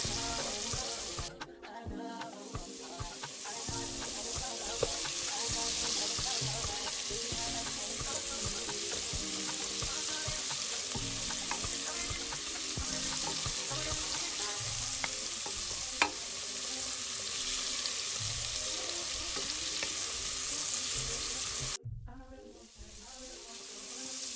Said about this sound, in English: I'm going to saute my vegetables for about 2 to 3 minutes. Then I'm going to just stir them around in my pot